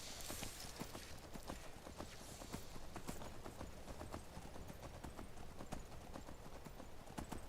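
A horse gallops in the video game Skyrim, its hooves pounding in a fast, regular beat that stays loud and close the whole time, with no talk over it.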